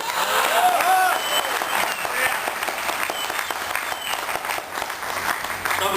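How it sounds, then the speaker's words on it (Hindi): Sustained applause from a large audience at a Hindi poetry or speech event, dense and loud clapping filling the whole stretch with a steady crowd wash and a few cheers rising at the start. "अपनी तालियों की तीव्रता को थोड़ा तेज करना"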